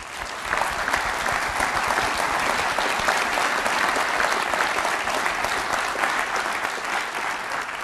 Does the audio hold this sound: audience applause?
yes